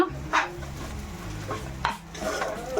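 Banana flower stir-fry is mixed in a pan, with a spoon scraping and clinking against the metal in a few distinct strokes over a low, gentle sizzle.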